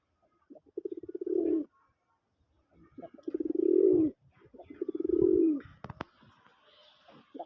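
A caged male pigeon gives three drawn-out, throbbing coos, each building in a rolling pulse, close and clear against a quiet background with a brief click near the end.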